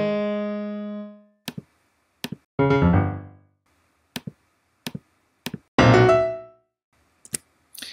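Solo piano plays a string of short phrases from Boulez's Second Sonata, mixing sustained ringing chords with sharp isolated staccato strikes separated by silences.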